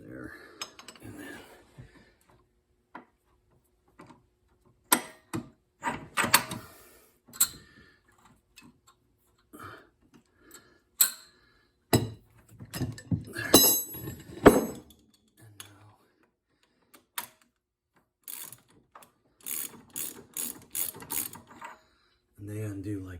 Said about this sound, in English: So I use the torque multiplier, put it on there